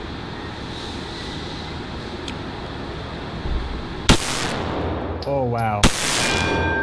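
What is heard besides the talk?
Beretta 92fs 9mm pistol gunshots at target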